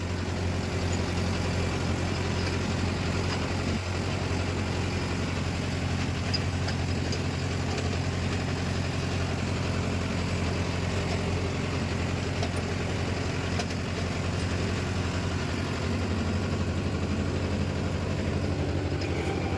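A Mahindra Yuvo Tech+ 585 tractor pulling a 42-blade rotavator through wet field soil gives a loud, steady low engine drone with a constant mechanical rumble, unbroken for the whole stretch, with no talking.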